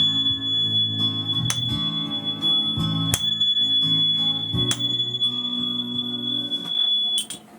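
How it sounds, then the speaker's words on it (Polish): A steady, high, pure ringing tone from a high C tuning fork holds throughout, over a low droning backdrop broken by a few sharp clicks. "utwór numer 8 to powtarzający się dźwięk C, ale już w wyższej oktawie"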